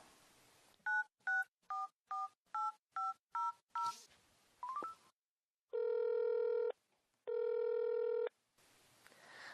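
A mobile phone dialing a call: a quick run of seven evenly spaced keypad tones, a short chirp, then two long ringback tones with a gap between them, clear and close.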